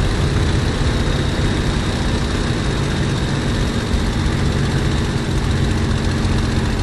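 A Messerschmitt Me 109 engine runs at takeoff power, producing a loud, unbroken droning roar with a rough low-end rumble that holds steady throughout, with no talking.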